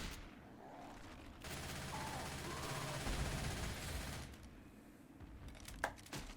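Gunfire in a competitive video game match during a grand finals, a muffled burst of rapid shots and crackling fusillade that swells in the middle and then tapers into scattered sharper pops, faint and distant-sounding.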